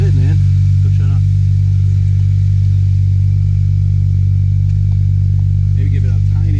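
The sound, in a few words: Subaru WRX engine running with Invidia exhaust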